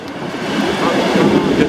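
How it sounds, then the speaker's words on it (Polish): Locomotive 1509 at Łowicz Główny railway station gives a steady, loud, close rumble with a hissing, rolling texture throughout. "To jest sama lokomotywa"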